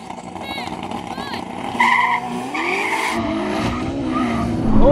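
An SUV launches hard in a drag race against a Ferrari SF90, with loud close tire squeal and skidding over roaring engines whose pitch climbs and shifts across several seconds; voices talk over the noise.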